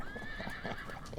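A horse on a dusty Western trail whinnies with a drawn-out neigh, close by, while hooves clop unevenly underneath, all within about a second.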